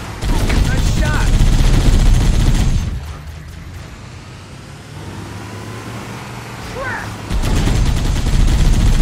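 Covering gunfire in a Halo video game battle, dense loud bursts of shots and explosions that drop away midway and then return, with brief voices underneath.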